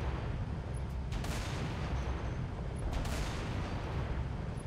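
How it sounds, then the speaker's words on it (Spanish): In Halo Reach, a Scorpion tank fires its cannon at an anti-aircraft gun: two heavy booming shots about two seconds apart, each a sharp blast over constant loud battle rumble. "Desde aquí atrás vamos a disparar 13 tiros. Si no me equivoco, son 13 tiros del Scorpion los que destruyen el antiaéreo."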